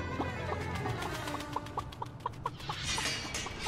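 A chicken clucking in an animated cartoon, a quick run of short evenly spaced clucks, fairly faint, set among background sound effects.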